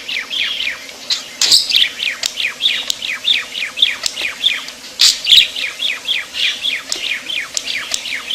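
A pet bird named Victor chirps in a steady run of bright, quick tweets, fairly close and repeated about twice a second for several seconds, with no talk over it.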